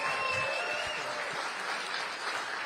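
Applause from a crowd at a professional billiards tournament in St. Louis, a dense, steady clapping that fills the room evenly from start to finish with no gaps.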